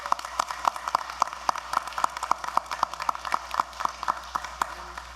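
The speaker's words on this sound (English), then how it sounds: "give a wonderful round of applause to these wonderful artists" Scattered applause at a city school board meeting for student artists: a small group claps in a steady, distinct rhythm, individual claps clearly separated, moderately quiet and alone without talk.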